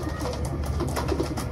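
Racing pigeon in training coos softly, a few low throaty burbles close by over a steady background hum, without speech.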